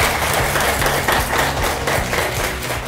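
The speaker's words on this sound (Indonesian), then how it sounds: "Teman-teman semuanya, beri tepuk tangan untuk kelompok 1." A classroom of students claps for a student group, dense, fairly loud and close hand claps that continue steadily for a few seconds with no talking.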